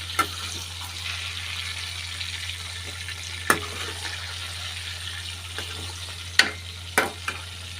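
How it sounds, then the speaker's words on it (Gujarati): Whole eggplants frying in oil give a continuous soft sizzle over a low hum, with a few sharp pops and clicks scattered through it. "તેલમાં રીંગણા સડી ગયા છે"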